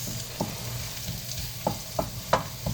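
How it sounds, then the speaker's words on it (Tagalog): Garlic sautéing in a pan ahead of onions for a sayote dish, giving a steady frying hiss with several spatula scrapes and taps spaced through it, close and moderately loud. "kapag medyo brown na ang bawang pwede nang isunod ang sibuyas saka kamatis."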